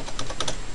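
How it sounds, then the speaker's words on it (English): Quick taps on a computer keyboard as an account number is typed, four or five crisp clicks in rapid succession, close and clear with no talking. "And you can just type that in as well."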